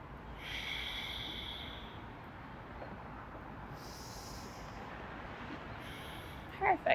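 Slow, deep breaths during a yoga posture, a steady airy hiss of inhaling and exhaling held through the hold, fairly close and soft, with a couple of sharper breathy bursts at the end.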